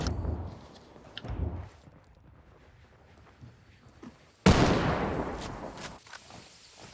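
Gunshots ring out in the video game Ghost War: a couple of muffled shots early on, then a louder, sustained burst of fire near the end.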